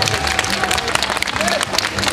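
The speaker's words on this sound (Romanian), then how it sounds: "Multe aplauze!" Festival audience applauding children with disabilities at the Alexandria celebrations of 2010: a dense, steady wash of clapping with crowd murmur, loud and continuous throughout.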